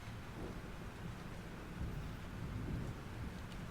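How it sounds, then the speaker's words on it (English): Thunderstorm in Life Is Strange Remastered: steady heavy rain with low rumbling thunder swelling and fading underneath, a continuous full-bodied wash with no speech. "This storm is real."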